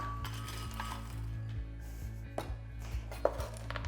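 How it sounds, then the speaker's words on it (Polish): Crushed cookies clatter and tumble into a blender bowl in a few bursts over a steady low hum, with sharp clinks near the end. "do misji blendera przesypiemy ciasteczka"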